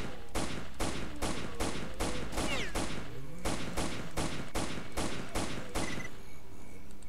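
Gunfire in the Lost Alpha video game: a rapid string of about a dozen loud, evenly spaced shots fired in bursts, with a brief softer patch midway, and no voices over it.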